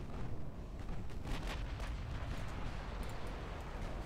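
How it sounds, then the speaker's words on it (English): Heavy 13-inch naval gunfire in the Ultimate Admiral: Dreadnoughts warship battle, a continuous rumbling barrage of deep booms and impacts, dense and fairly loud throughout. "You're getting hit by 13-inch guns."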